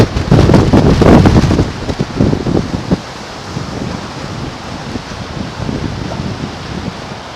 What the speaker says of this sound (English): Woo, and there's the wind.